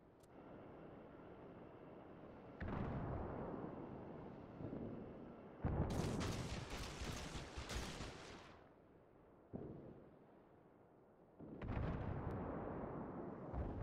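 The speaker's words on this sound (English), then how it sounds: "And there is an airstrike incoming." Airstrike explosions in the naval battle game World of Warships, a series of heavy booming blasts and rumbling bursts rising and falling over several seconds, with a fainter continuous roar between them.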